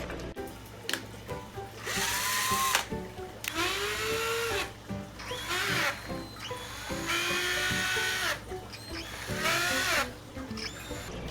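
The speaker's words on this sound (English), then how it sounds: "I drilled 2 holes into 4 connectors" Power drill boring two holes each into plastic connectors for an indoor turtle pond basking platform, several loud whining bursts with brief pauses between, pitch sliding as the bit bites and releases.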